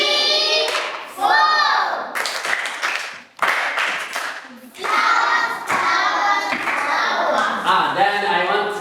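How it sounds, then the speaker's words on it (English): Children in a classroom clapping their hands in short bursts during a multiplication lesson, the sharp claps mixed with young voices and chatter, close and fairly loud. "Clap yourself."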